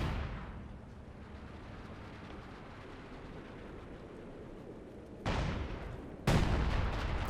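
Howitzer artillery fire in Company of Heroes 2, a rumbling wash of distant battle noise followed by two sharp, loud blasts near the end, about a second apart.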